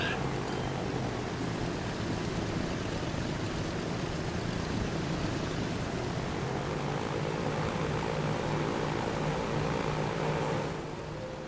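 A Boeing 737-100 airliner in the game Transport Fever 2 gives a sustained, loud engine roar with a steady droning tone, fading slightly at the very end.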